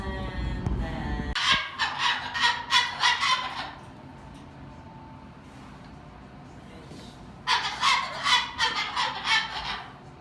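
A pet party bird gives a series of loud, rapid honking or squawking calls in two bursts, with quieter room noise between them and no talk.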